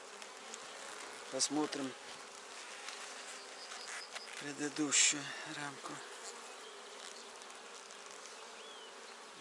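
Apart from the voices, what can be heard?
honey bees buzzing in an open beehive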